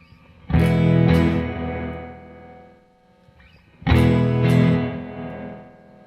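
Two electric guitar chords strummed a few seconds apart through a Teisco interface's reverb effect, each ringing out with a wide reverb tail that slowly fades.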